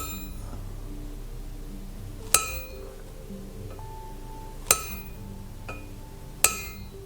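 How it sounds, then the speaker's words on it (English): Three sharp metallic taps spaced a couple of seconds apart, each ringing briefly, a center punch struck with a hammer on metal before drilling. "what we're going to do is center pop this and drill"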